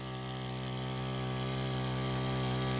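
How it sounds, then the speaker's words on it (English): Power sprayer engine, from a Sharp Garuda 2-stroke vs 4-stroke test, running at full load with a loud, constant buzzing drone close by, no talk. "Now all this while the engine has been running at full load"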